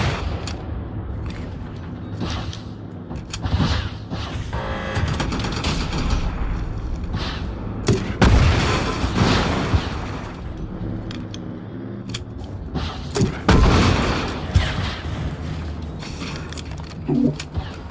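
Gunshots in the video game Generation Zero, several loud sharp reports scattered through the clip with mechanical clatter and rumbling game noise between them, no voices.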